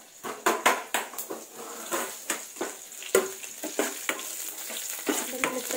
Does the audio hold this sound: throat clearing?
no